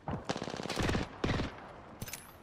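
Rapid automatic gunfire in a competitive video game shooter match, several loud bursts of close, crackling shots in quick succession with short gaps between volleys.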